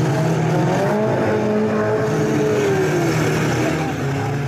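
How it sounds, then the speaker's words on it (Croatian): Demolition derby cars roar around a wooded motocross track in Croatia's first demolition derby, a loud, continuous engine drone with one rising and falling rev sweep. No distinct crash impacts stand out and no voices are heard. "prvi hrvatski demolition derbi, natjecanje automobila u njihovoj izdržljivosti na udaranje i sudaranje"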